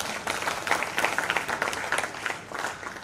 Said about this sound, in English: Another round of applause to...